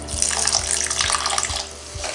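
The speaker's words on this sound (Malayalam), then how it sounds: "ഇനി ഇതിലേക്ക് നമുക്ക് 5 ടേബിൾ സ്പൂൺ വെള്ളം ഒഴിച്ച് കൊടുക്കാം." Water, about five tablespoons, poured into a pan of ground spices while cooking a vegetable pulao, giving a steady close splashing, sizzling wash with a few soft low knocks, no voices.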